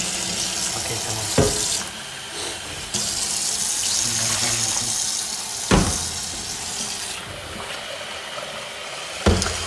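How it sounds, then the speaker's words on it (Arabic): Tap water runs steadily into a sink while contact lenses are rinsed under lukewarm water, a continuous close splashing stream with a few sharp clunks and brief shifts in flow, no talking. "لازم نغسل العدسات يا جماعة بمي فاترة، لازم تكون مي فاترة شوي"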